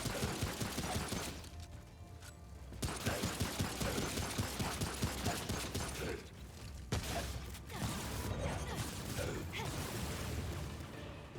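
Rapid automatic gunfire in the Remnant From the Ashes video game, fired in loud sustained bursts emptying a full magazine, with brief pauses between bursts and clanking weapon mechanisms.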